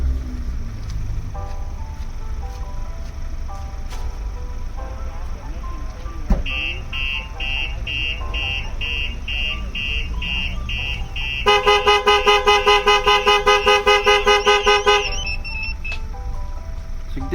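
A Starline Solaris alarm with horn honk goes off on a Ford Transit van: loud electronic siren tones cycle through changing patterns, then the horn blares in rapid repeated honks before the alarm stops.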